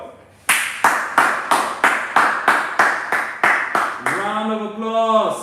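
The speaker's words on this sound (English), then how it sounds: "Round of applause." Rhythmic hand claps in a steady beat, about two per second and close by, end in a drawn-out voice calling out over the last claps.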